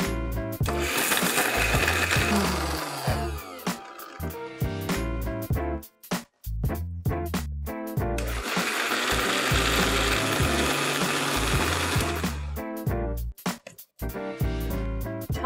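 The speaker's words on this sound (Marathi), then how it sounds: "आता मी एकत्र बारीक वाटून घेणार आहे।" An electric mixer grinder whirs loudly, grinding bedgi chillies, coriander seeds, black pepper and turmeric into a fine paste for Marathi fish curry, in two long bursts separated by short pauses.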